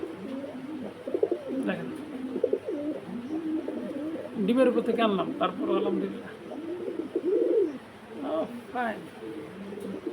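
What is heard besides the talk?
pair of pigeons cooing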